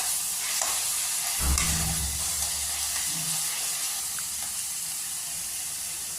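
Chicken frying in a pan with slit green chillies just added, giving a steady close hiss and sizzle with a brief louder burst of spattering, no talking.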